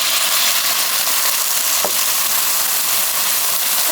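Octopus-cut sausages with soy sauce, sugar, garlic and green onion are stir-fried in a hot pan, giving a loud, steady hissing sizzle throughout. A single brief clack of a utensil cuts in partway through, and no one speaks.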